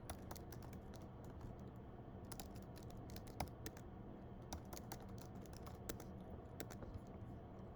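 Steady typing on a computer keyboard while entering a status in a work order application, with quiet, close keystrokes tapping in irregular clusters over a faint background hum.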